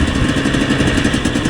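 Two-stroke motorcycle engine on a street ride, throttle blipped repeatedly while coasting to a stop with the clutch in, giving a steady loud close-up rasping drone with a quick pulsing rhythm.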